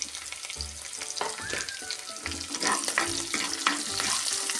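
Dried red chilies, curry leaves and green chilies crackle and spit in hot oil for a Kerala-style moru curry, a loud continuous sizzle with sharp popping bursts throughout, no voices.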